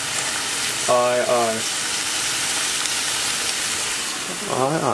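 A pan of sautéing food with black pepper sizzles and hisses steadily as it is stirred, with a voice speaking briefly at the start and again near the end.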